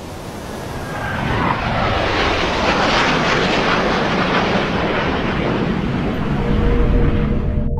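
Jet aircraft fly overhead, making a loud, continuous roar that swells early and stays heavy throughout, with no one speaking.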